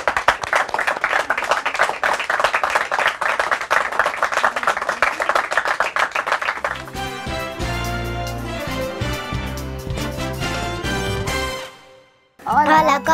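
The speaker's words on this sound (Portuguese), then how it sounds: "Uma salva de palmas para todos eles." An audience claps for quiz teams on a game show, a dense burst of applause lasting several seconds before music takes over.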